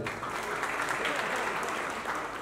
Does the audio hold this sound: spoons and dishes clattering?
no